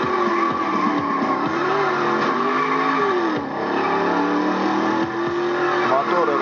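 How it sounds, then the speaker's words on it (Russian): Racing game car engines roar and tires squeal through an external speaker, a loud continuous mix of revving and rising engine pitch sweeps with skids, with a voice talking over it. "Моторы рычат, все такое."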